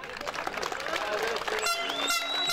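A crowd claps and cheers for the second-place team at a youth minifootball tournament, a busy mix of applause and voices with whistle-like tones toward the end.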